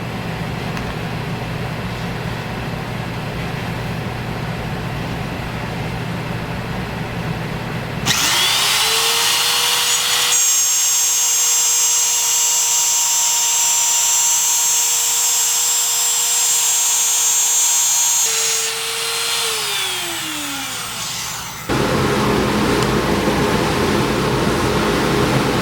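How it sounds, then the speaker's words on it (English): Wood router with a lowered bit making a pass along a bridge jig template, a loud steady high whine that starts abruptly, holds for about fourteen seconds with a pitch change near the end, then winds down, with no talk. "I've already gone ahead and lowered my router bit and done 2 more sweeps or passes at the form"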